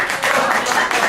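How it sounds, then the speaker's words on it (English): Audience applause and clapping at a live comedy show, a steady dense wash of hands filling the room without pause, with a hint of voices mixed in. "I wasn't anticipating an applause break"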